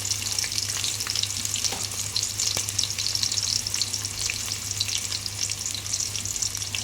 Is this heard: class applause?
no